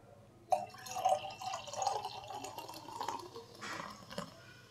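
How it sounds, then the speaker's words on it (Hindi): Soda water splashes into a glass for a summer iftar drink: a close, quiet pour with bubbly trickling and a few sharper splashes, heard alone without talk. "और दूसरे गिलास में हम डालेंगे सोडा वाटर"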